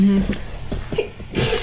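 A quick sneeze bursts out close by amid brief vocal sounds, followed by a second short burst.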